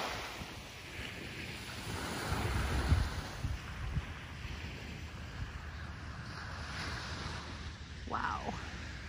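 Waves of the South China Sea wash onto a beach, a steady low surf roar mixed with wind buffeting the microphone, and a faint voice briefly near the end.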